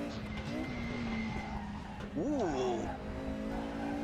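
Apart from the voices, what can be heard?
tire sound of Mercedes 190 EVO II DTM in racing sim video game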